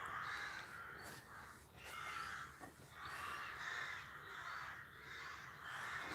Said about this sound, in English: The noise you can hear is the rooks in the trees.